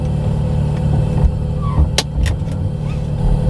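Porsche 997 Turbo under way on a short drive, heard from inside the cabin: a low steady engine and road rumble with a few brief clicks and knocks, no one speaking.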